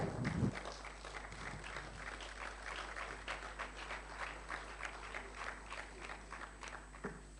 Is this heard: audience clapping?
yes